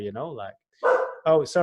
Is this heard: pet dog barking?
yes